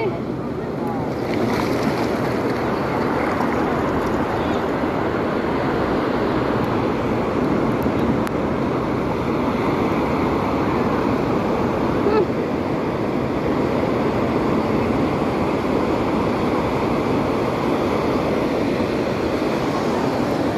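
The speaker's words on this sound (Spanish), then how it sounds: "Yo aquí sigo disfrutando de este mar tan lindo." Sea surf rolling onto a beach in El Salvador, a steady, loud wash of breaking waves with wind buffeting the microphone throughout, no distinct gaps between swells.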